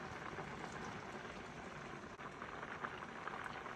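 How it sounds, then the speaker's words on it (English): Half and half simmers with rasgullas in a pan, a soft, continuous bubbling fizz, close and fairly quiet, with no voices. "And as it is boiling, I'm going to press it around."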